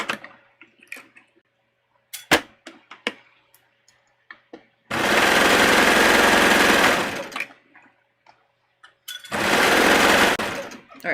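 A sewing machine stitches around the armhole of a swimsuit in two loud, steady whirring runs, with scattered clicks and quiet handling noises in the gaps between them.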